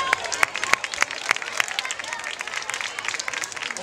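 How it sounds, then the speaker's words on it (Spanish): An audience at a yoga and pilates class closing event applauds, with several sharp, close claps standing out over a bustling round of clapping and some crowd chatter. "Un fuerte aplauso, por favor"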